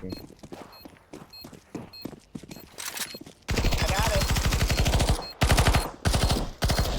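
PP-Bizon submachine gun fire in Counter-Strike 2 on the Dust 2 map: close, loud sustained automatic bursts following light footsteps, with short pauses between bursts and talk underneath.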